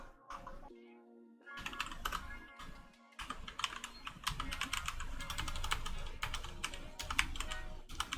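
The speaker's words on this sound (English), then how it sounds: "My typing is going." Quick, uneven bursts of keystrokes clatter on a computer keyboard during a coding session, the clicks close and fairly loud, with brief pauses between runs.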